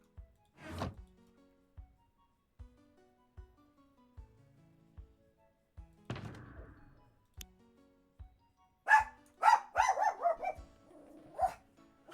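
A small dog barks in several sharp bursts, with short yips and excited barking bunched together toward the end, fairly close over a quiet background with faint game music.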